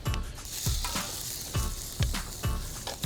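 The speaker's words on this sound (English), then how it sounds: "And you let that simmer for 15-20 minutes." Sauce of brown sugar simmers in a pan on a backyard grill, giving a steady, close sizzle and bubbling with soft low pops recurring about every half second, no voices.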